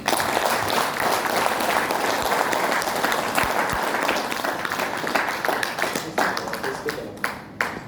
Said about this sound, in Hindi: एक बार जोरदार तालियां हो जाए अपने लिए